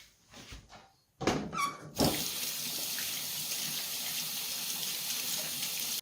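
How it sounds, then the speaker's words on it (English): Water runs from a kitchen sink tap for washing hands, starting after a few soft clatters and then gushing in a steady, even stream that stays close and fairly loud to the end. "I'm just gonna quickly wash my hands"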